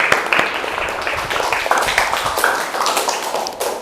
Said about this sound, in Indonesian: saya kasih aplaus dulu untuk teman-teman kita